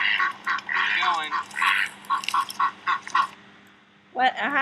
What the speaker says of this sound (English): What a happy duck.